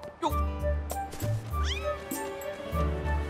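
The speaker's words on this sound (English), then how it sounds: "Did you just meow?" A cat meows once in the video game Legend of Zelda: Skyward Sword, a short rising-and-falling cry over the steady game music and ambience.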